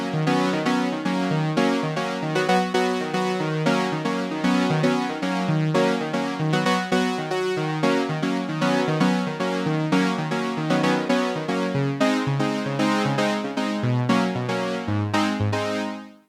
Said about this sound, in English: synth strings, which sounds a bit like this.